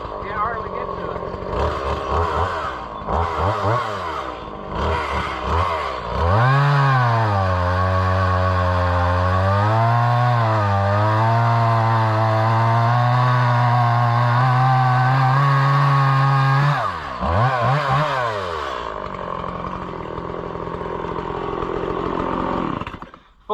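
Homelite Super XL chainsaw running a sharp full-chisel chain, revving loud and close, then bogging into a long steady cut through wood before revving back down and idling.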